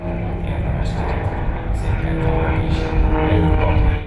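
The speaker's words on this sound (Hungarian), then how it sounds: "1971-es gyártású, veterán sugárhajtású repülőgép." A veteran jet aircraft built in 1971, of a type flown by the former Hungarian People's Army air force from 1964 to 1984, roars steadily at the 29th Börgönd air show, a loud sustained engine rumble with rising surges.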